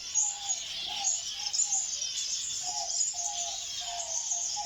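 A golden pheasant and other birds calling in an aviary: shrill high chirps keep going over repeated mid-pitched calls, fairly close and continuous, with no talking.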